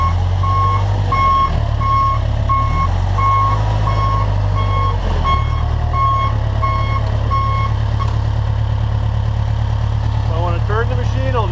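Reversing alarm on a Deere 450G crawler dozer beeping in a steady, evenly spaced rhythm over the loud, close rumble of the diesel engine. The beeps stop partway through while the engine keeps running.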